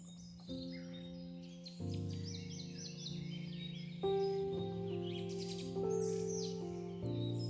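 Birds sing and chirp in a tree-shaded park in Ljubljana, Slovenia, with layered overlapping calls at moderate distance over a low steady background hum.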